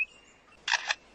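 A bird mimics a camera shutter with a short, crisp mechanical double click, close and clear against near-silence, preceded by a faint thin whistle.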